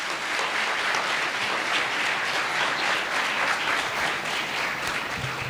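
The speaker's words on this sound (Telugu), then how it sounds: "గట్టిగా చప్పట్లు కొట్ట." A crowd at an awareness meeting against alcohol claps loudly and steadily, a dense, even wall of applause lasting several seconds with no speech.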